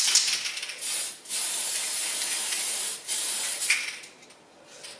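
A spray paint can hisses steadily onto an RC buggy bodyshell for a Tamiya Dual Ridge 4WD, with several long, close sprays broken by brief gaps.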